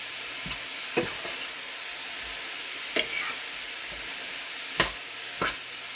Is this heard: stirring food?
yes